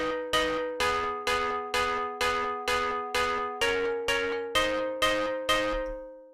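A distorted big room house synth stab in Logic Pro X plays a steady run of about a dozen evenly spaced bright, metallic hits, each decaying quickly. The notes shift in pitch partway through, and nothing else is heard.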